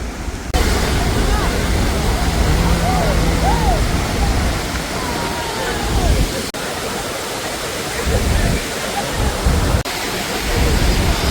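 Athirappilly waterfall roaring in a dense, continuous broadband rush of falling water, loud and close, with faint voices half buried beneath it.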